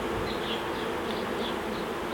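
Bees from a wild bee colony buzz in a steady, close, continuous drone, with many insects humming together and no voices.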